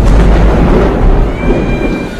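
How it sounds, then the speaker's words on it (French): Thunder rumbles loudly through a night storm, a deep continuous low roll with a sustained wash of rain-like noise across the whole stretch, no voices. "le tonnerre l'effraie"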